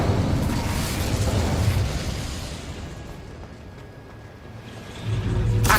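A fire spell bursts in Hogwarts Legacy, a loud roaring blast with no one speaking that swells, dies back to a lower rumble, then flares loud again at the end.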